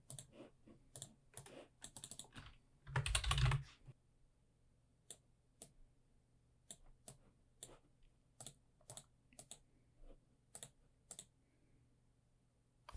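Fingers type text on a computer keyboard for a Cricut wood-burning design in short, irregular clicks, close and quiet. One louder burst of handling noise breaks in partway through, with no speech.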